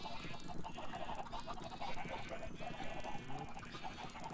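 Chickens clucking in Minecraft on a farm, a busy layer of repeated clucks and chatter running continuously over a dense background of other game sounds.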